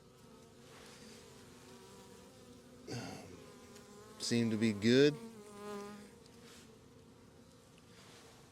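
Bees in an open hive colony, frames of bees being handled, give a steady low buzzing drone throughout with a few louder swells, while a person speaks briefly nearby.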